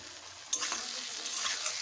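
Fried okra with ground sesame and green chillies sizzles in a pan as it is stirred and sautéed, a soft steady hiss with a sharper scrape partway through.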